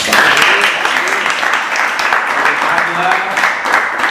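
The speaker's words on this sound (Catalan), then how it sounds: "voldria que li donéssim un aplaudiment al Fernand" Audience at a meeting applauding together, a loud, continuous clatter of many hands with murmured voices mixed in throughout.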